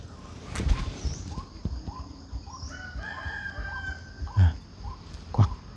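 A rooster crows and chickens cluck nearby in an outdoor farmyard, the calls scattered over a busy background with a few sharp thumps.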